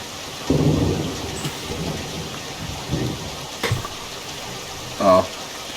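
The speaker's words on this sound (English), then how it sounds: "the sky splits open in a fit of thunder, dousing us in rain" Thunderstorm with rain in a Doki Doki Literature Club mod, a low rolling thunder rumble over steady rain hiss, followed by a few sharper crackling bursts.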